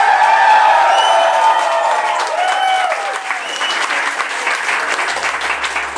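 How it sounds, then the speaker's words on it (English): Audience applause for a guest named Gavin, steady dense clapping mixed with a few whoops and crowd voices, loudest at first and then slowly thinning while a voice carries on over it. "You don't have to applaud for Gavin"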